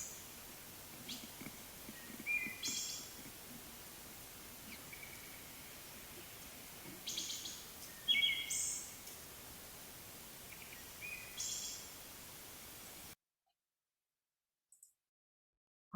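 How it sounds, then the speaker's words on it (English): Recorded wood thrush songs play as a spliced mix. Soft, fluting phrases recur every few seconds over a hissy background, then stop and leave near silence. "I took like 10-second clips of several of our wood thrush recordings and made them into a"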